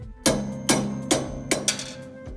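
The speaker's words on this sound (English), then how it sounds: "Take the 3mm punch and a hammer" Four sharp metallic hammer taps on a 3mm punch drifting out pins from a flail mower hammer kit, at a steady, moderate pace, close by, ringing briefly after each strike.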